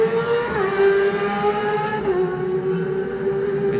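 Racing motorcycle with a new Yamaha engine accelerating away from the start of the Manx Grand Prix Junior race at the Isle of Man Classic TT 2019, a loud, steady engine note rising in pitch as it pulls away.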